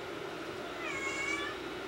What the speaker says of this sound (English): That's my cat. She's saying hi.